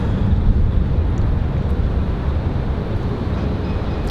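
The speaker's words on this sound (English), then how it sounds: "Breeze Airways, that A220 again from Islip." A Breeze Airways Airbus A220 at RDU airport rumbles loud and steady, a broad low engine roar that holds through the whole stretch under windy conditions.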